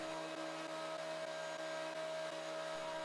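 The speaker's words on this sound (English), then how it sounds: "I wheel out my planer, and then I start jamming boards through" A thickness planer running as boards are fed through it, giving a loud steady whine with strong tonal hum that stays constant throughout.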